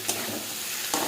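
Fried fish being stirred in a hot pan makes a brief close sizzle, with two short scraping bursts at the start and end.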